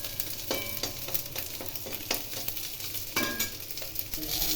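Dry red chillies and black cumin seeds fry in hot oil with a steady sizzle, broken by repeated spatula scrapes and taps against the pan, close up and without speech.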